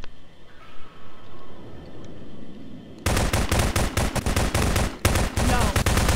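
Rapid automatic gunfire from the Prop Hunt video game erupts after a quiet stretch, running loud and sustained with a brief break near the end.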